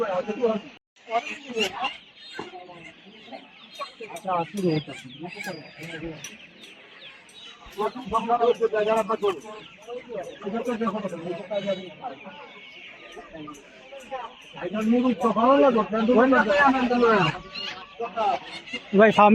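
Chickens and ducks cluck and call at Putia poultry market in Narsingdi, Bangladesh, a busy mix of bird calls running under loud bargaining voices and market chatter throughout.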